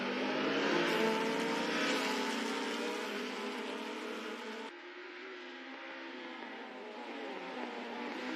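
Race cars in a virtual racing game roar off the start together, a dense, steady engine drone building and holding loud, with an abrupt shift in tone partway through.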